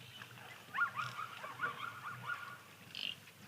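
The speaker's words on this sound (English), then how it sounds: "Yes, just Egyptian geese." Egyptian geese by the water give faint, distant honks, a loose series of short calls spread over a few seconds against quiet outdoor background.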